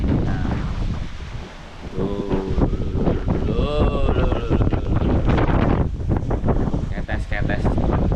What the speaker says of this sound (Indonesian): kalau kalian lihat muka saya ya kena angin